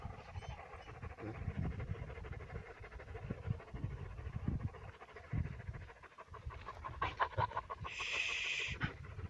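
Seven shepherd dogs pant rapidly and rhythmically nearby after a long run, a continuous breathy huffing with no talking.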